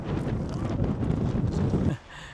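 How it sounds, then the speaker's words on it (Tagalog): Strong wind buffets a microphone outdoors in Alberta, Canada, a loud continuous low rumble with gusty fluctuations that drops away abruptly near the end. "Kasi sobrang lakas ang hangin."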